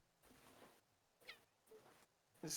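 Indoors, a house cat meows faintly a few times in short separate calls, ending with a louder, higher cry.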